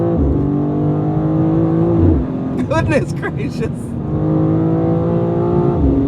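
A BMW M2 CS accelerates hard at full throttle, its engine note climbing steeply through the gears with loud, close, rising harmonics and shift breaks, while a driver exclaims briefly over it.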